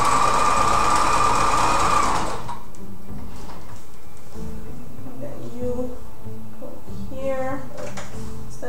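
A sewing machine stitches lace for a cocktail dress, running loud and steady for about two seconds, then stopping; a voice talks afterward over faint clicks and handling noise.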